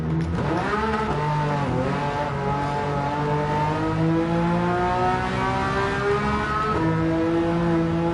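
Continuous high-revving racing car engine in Gran Turismo 7, pitch rising through the gears with brief drops at shifts, loud and sustained with no voices.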